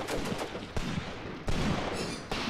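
Artillery barrage in the WWII tank game Graviteam Mius Front: a rapid series of loud, sharp blasts with rumbling tails, several distinct bursts stacked over continuous battle noise, no talking.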